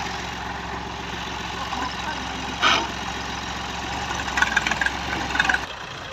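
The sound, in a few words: Ghazi tractor engine running while stuck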